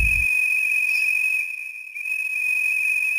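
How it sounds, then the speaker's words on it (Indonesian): A specially made, one-of-a-kind whistle gives a steady, sustained high tone that holds for about three seconds, dipping briefly in the middle, with no talking. "Suara peluit itu hanya milik Tang Tang."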